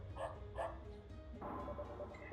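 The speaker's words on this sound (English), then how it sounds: "I think I hear barking in the distance." A dog barks twice in quick succession, faint and distant, inside the video game Concealed, followed by a low shuffling rustle over a quiet ambient bed.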